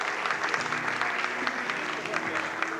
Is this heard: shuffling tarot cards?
no